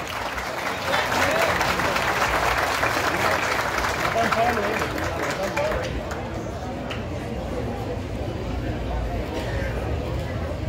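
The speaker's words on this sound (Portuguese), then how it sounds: "Cadê os aplausos, povo presente?" Crowd applause at a town square festival in Tiros, Minas Gerais, a dense, loud, continuous clapping from many people outdoors that carries through the whole stretch with voices mixed in underneath.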